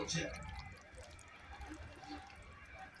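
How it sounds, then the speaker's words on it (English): Garlic butter cream sauce is poured over potatoes, giving faint wet drips and a soft liquid trickle at low volume, with quiet speech. "Now that the sauce is complete, I'll just dump it on top, pour it on top, just go ahead and mix it in."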